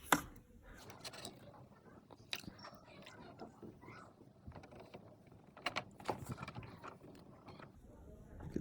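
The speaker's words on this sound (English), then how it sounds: "Now I'm gonna scrape the sides down. We're gonna scrape all the sides." Scraper rubbing along the inside walls of a dirty fish tank, a quiet, irregular series of scratchy strokes and soft clicks with brief sharper scrapes.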